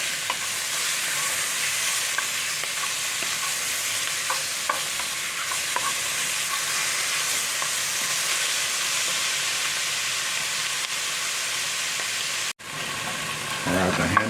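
Ham and onions frying in a pan give a loud, continuous hissing sizzle that holds steady throughout, broken by a brief drop near the end before resuming.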